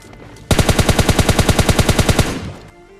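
A rapid burst of automatic gunfire in the PUBG Mobile Lite video game, about twenty loud, evenly spaced shots in two seconds, close and punchy, then a fading tail.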